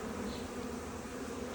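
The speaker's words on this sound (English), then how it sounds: "look at all these bees. It's so cool to just stand here and watch all these bees, all the sounds." Dense, steady buzzing of many honey bees at a double-deep beehive, a close continuous drone that holds at an even level with no voices.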